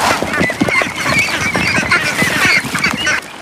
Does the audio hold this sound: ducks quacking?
yes